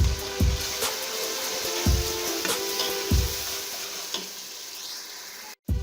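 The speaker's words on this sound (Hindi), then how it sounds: "इनको फ्राई करूँगा" Tomatoes with chili powder, salt and spice mix frying for dahi cholay, a continuous close sizzle with several evenly spaced thumps of a spoon stirring against the pan, then a brief cut near the end.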